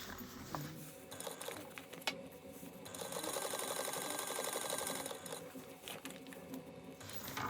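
A sewing machine bastes a fabric lining and exterior together with a lengthened stitch, running in a quiet, rapid mechanical patter that starts and stops in short bursts, then hums steadily through a longer stretch.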